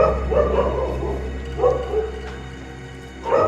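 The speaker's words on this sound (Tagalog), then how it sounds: "maingay yung aso." A dog barks in short bursts, a few yips spaced apart, with a steady low hum in the background and no one talking, inside an abandoned school building.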